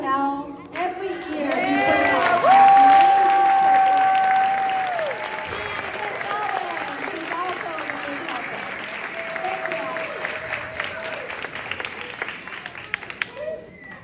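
A crowd of parents and kindergartners at a school Three Little Pigs performance claps and cheers for teachers and assistants, with whoops and children's voices over the applause before it thins into scattered claps and chatter.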